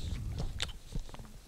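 Biting into a strawberry-flavoured Allen's Snakes Alive lolly snake, a chewy gummy candy, heard as a couple of soft, close squishy bites and chewing sounds with no talking.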